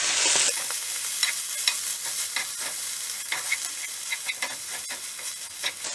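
A creamy spinach mixture gets stirred in a pan with a continuous sizzle and hiss, and the spoon scrapes and taps through it at close range, with no voices.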